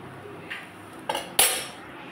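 Utensils clink against dishes while fried mung dal cooked with a fish head is served: a soft tap, then two sharper metallic clinks close by, with no talk.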